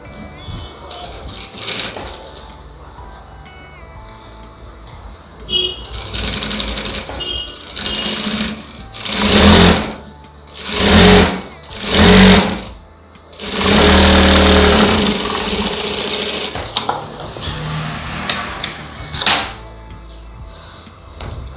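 A sewing machine stitches the lining of a blouse in several loud, separate bursts of a few seconds each, with quieter handling sounds between them and a voice talking now and then.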